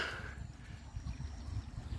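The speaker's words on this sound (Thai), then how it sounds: "นี่คือถนนที่เป็นน้ำตก แล้วก็จะมีจะมีน้ำอย่างเงี้ย" Water pours down a village road in Nong Khai province, Thailand, flowing like a waterfall. It makes a faint, continuous trickling and gurgling sound heard from close by.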